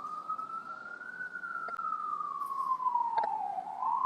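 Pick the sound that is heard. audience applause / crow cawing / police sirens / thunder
police sirens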